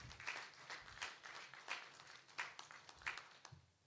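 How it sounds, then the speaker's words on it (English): Audience at a maternal mental health conference in Ghana giving a round of applause, fairly faint and thin, a scattering of distinct claps with uneven rhythm from a modest crowd, trailing off at the end. "Let's give him a round of applause again."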